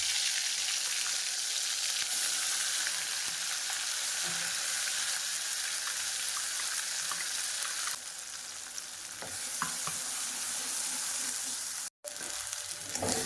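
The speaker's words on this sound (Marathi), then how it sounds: "आपला मसाला मस्त तेलामध्ये भाजून घ्यायचा आहे" Ground spice paste fries in hot oil after sputtering cumin and mustard seeds, making a loud, continuous, close sizzle with light stirring scrapes that dip slightly toward the end, then a brief dropout. No one speaks.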